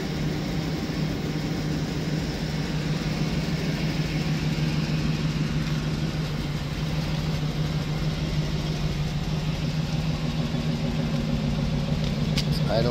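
A Ford E150 passenger van's engine idles steadily, a constant low hum with a smooth, even rhythm heard close by for the whole stretch.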